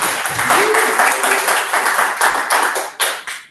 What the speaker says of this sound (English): So please let's give another round of applause.